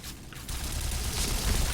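A Kriss gun firing in a shooter video game, a dense rapid-fire rattle of shots that runs loud and close for under two seconds, with no talk.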